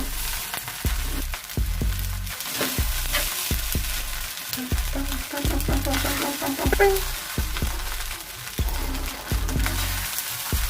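Mushroom egg fried rice being sautéed in a pan, with a steady close sizzle broken by repeated scraping, tossing strokes of a spatula in an uneven rhythm, no talking.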